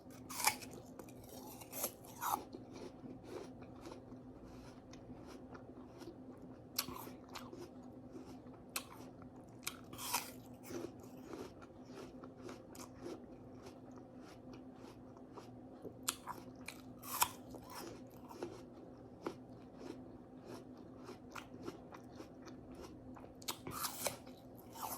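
Fresh apple chewed close to the mouth, with a run of crisp, crunchy bites and wet chewing over a low steady hum, no speech.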